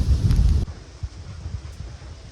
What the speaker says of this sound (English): A lot of gusts and stuff. It's all swirling around us.